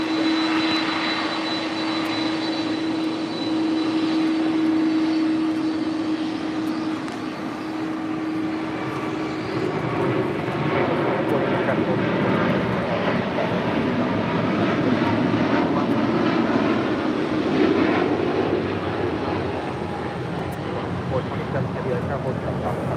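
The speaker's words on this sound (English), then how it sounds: "That was Qatar Airways 740 departing to Doha on the A350 1000." Qatar Airways Airbus A350-1000 jet departing LAX, a steady, loud engine roar with a sustained whine early on, broadening into a rumbling wash as it climbs away, with people talking over it throughout.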